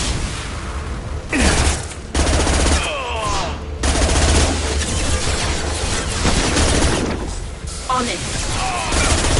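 Gunfire from the Mass Effect video game on PS5 rattles in dense automatic bursts with heavy booms. It is loud and continuous, with short spoken squad callouts over it.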